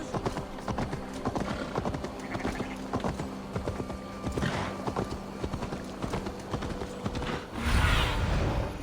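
Horses in Assassin's Creed Valhalla clatter past with rapid, overlapping hoofbeats and a brief whinny, close and busy, ending in a louder burst of rushing noise.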